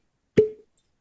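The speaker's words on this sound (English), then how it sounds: "This is the one I botched the cork pop on." A single sharp cork pop from a red corn whiskey bottle, clean and close, a quick hollow plop with a brief ringing tail and no squeak, followed by silence.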